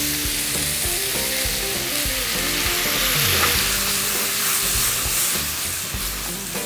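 Shrimp and colorful vegetables with basil stir-fried in a pan with soy sauce and fish sauce, a loud, steady sizzle with scraping stirring throughout, no voices.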